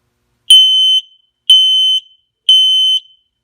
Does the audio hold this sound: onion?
no